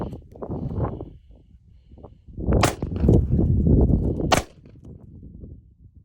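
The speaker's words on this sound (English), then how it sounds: "I'll shoot it all double action." Charter Arms Bulldog .44 Special revolver fired double action, with two sharp loud cracks a couple of seconds apart amid noisy handling sounds and rustle, the second shot standing out crisply before a quieter tail.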